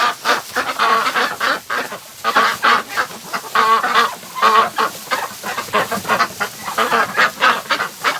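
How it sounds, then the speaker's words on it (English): Muscovy ducks calling in a barn, a busy flock giving repeated short honking and clucking calls in uneven bursts, fairly close and steady throughout with no talking. "These ducks just love when I clean out the barn"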